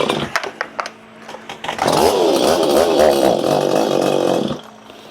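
A Stihl 025 clamshell chainsaw with fresh port work gets a few pull-start attempts, then fires up on the third pull and runs loud and close at a rough, wavering idle for a few seconds.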